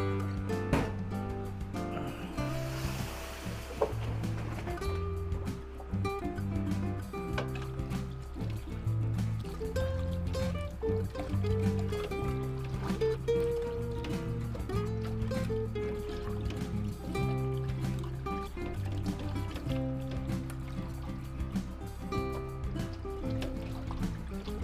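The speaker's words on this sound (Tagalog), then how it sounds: "Huhugasan po uli natin yan." Water trickling and pouring steadily as beef entrails are rinsed in a basin, a continuous gentle splashing and dribbling with no talk.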